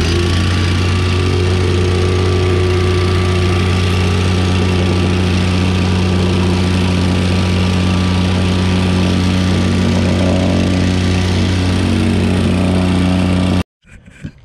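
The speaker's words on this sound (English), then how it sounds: "Gonna tamp it down right now." Plate compactor tamping down a crushed stone base inside the forms for a 14x24 monolithic garage slab, a loud, steady, droning engine with heavy vibration running continuously until it cuts off abruptly near the end.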